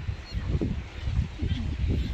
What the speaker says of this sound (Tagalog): Ah, mga itik.